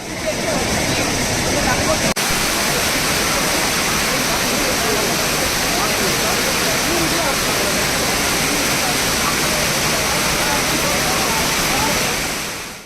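Steady, dense roar of a waterfall on the Kaveri river, loud and unbroken throughout with no pauses or distinct events.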